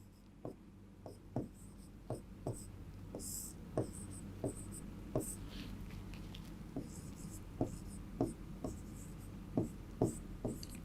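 Chalk or pen taps and scratches at an irregular pace during a chemistry lesson, each stroke a distinct close tick over a low room hum.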